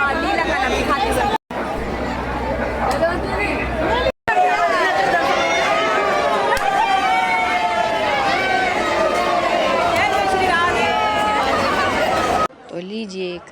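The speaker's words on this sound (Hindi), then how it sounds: "और भीड़ देखो कितनी सारी भीड़ है।" A large crowd of devotees packed into the Banke Bihari temple, a loud constant hubbub of many voices, with shouts and chatter rising and falling and brief cuts in the noise.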